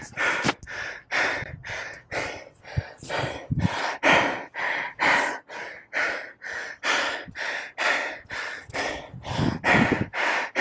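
A cyclist breathes heavily after a hard all-out bike climb on Chevy Chase Drive in Pasadena, a close, loud series of rapid gasping breaths, roughly two per second, with no talking.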